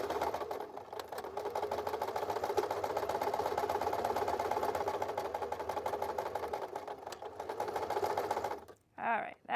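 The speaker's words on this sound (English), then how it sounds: "let's do 1 more seam and make it better this time" A sewing machine runs steadily while stitching a seam on barrel leg jeans, a continuous close whirring hum that stops abruptly near the end before a brief speaking voice.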